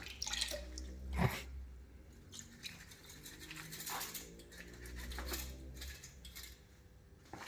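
Coolant draining from a BMW E30 engine during teardown of a donor car, with irregular drips and a splashing trickle, one louder knock early on, close but fairly quiet.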